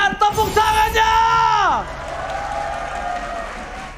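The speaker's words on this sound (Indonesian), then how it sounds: "mari kita ramaikan tepuk tangannya!" Crowd at an esports arena during an MPL Indonesia Season 11 match between RRQ and Aura Fire: a loud shouted, tonal voice leads into sustained cheering and applause that carries on at a moderate level.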